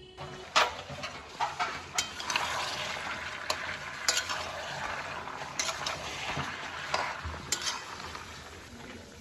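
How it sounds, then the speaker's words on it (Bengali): Boiled mutton sizzles while it is stirred in masala in a pan for kala bhuna. A steady frying hiss runs throughout, with repeated scraping and clinking spoon strokes at close range and no speech. "এই কষানোর মধ্যে এবার মাংসটাকে ঢেলে দেবো"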